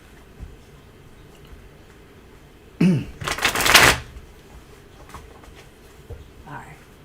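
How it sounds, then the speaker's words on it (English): Tarot cards being riffled and shuffled in one loud burst lasting about a second, with quieter handling before and after and faint background noise. "One more shuffle."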